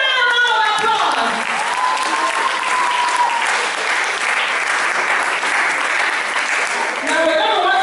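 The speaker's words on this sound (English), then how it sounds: "Give my children a round of applause." Loud, sustained applause from an audience for schoolchildren at a school declamation contest, with a voice speaking briefly over the clapping at the start and end.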